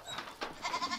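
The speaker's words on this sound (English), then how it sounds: "The hope is that the lions will be drawn to the commotion of bleating goats" Goats confined in a protective cage as lion bait give short, wavering bleats, two or three cries in quick succession, moderately close and clear with no voices.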